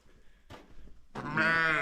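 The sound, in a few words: sheep bleating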